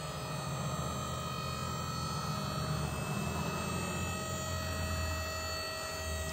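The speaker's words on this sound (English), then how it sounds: "I'll let her down off of the winch." An electric winch lets an Allis Chalmers D19 barn-find tractor down off a trailer, giving a steady, droning mechanical hum that holds evenly throughout with no speech.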